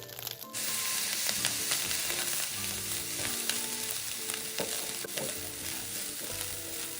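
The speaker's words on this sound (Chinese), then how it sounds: "初下锅的米饭是湿润的，高火快炒后，米饭就会开始弹跳。" Taro and sausage fried rice stir-fried over high heat in a wok, with steady loud sizzling and frying crackle plus repeated scraping and clanking of the spatula throughout, no voices.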